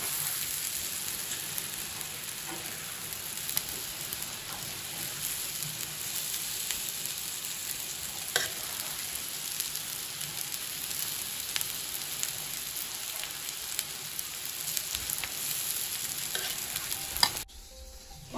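Rice for corn pulao is stirred and fried in a pan with a steady soft sizzle and scraping that runs without a break for about seventeen seconds, then cuts off abruptly.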